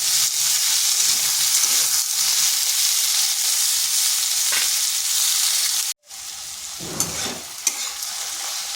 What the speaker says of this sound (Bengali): ঝিঙ্গাগুলোকে একটু ভেজে নিচ্ছি, মানে সামান্য একটু নেড়ে নেব